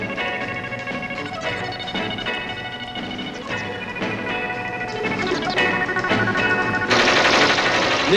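Sustained automatic gunfire in a 1981 animated film, a dense, continuous rattle of machine-gun shots that grows louder toward the end, set against a bed of music.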